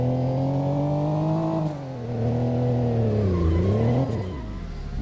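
A car in the racing game Midnight Racing: Tokyo revs hard and oversteers, its engine note rising and dipping through a slide. The roar stays loud and continuous throughout, with no talk.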